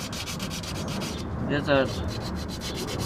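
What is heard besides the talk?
sanding rust off a Toyota Tundra brake resting point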